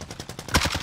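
Rapid automatic fire from an LC-10 submachine gun in Warzone, a steady run of close, punchy shots that gets louder near the end of the burst.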